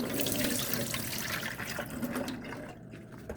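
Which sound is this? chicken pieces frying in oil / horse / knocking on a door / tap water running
tap water running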